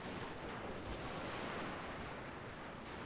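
Dense, continuous gunfire and distant booms fill a Total War: Shogun 2 battle, a steady rolling crackle of massed musket volleys at low level with no clear breaks.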